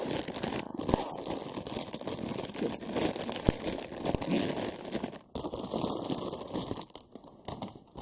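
Plastic crinkles and rustles continuously up close, with crackling handling noise and a few sharp snaps, dropping off briefly near the end.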